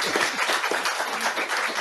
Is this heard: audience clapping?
yes